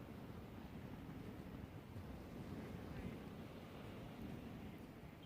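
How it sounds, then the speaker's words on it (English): Sea surf on a beach at a wild camp, a steady low broadband wash of waves with wind buffeting the microphone, continuous and fairly even throughout, no voices. "Love the sea, absolutely love the sea."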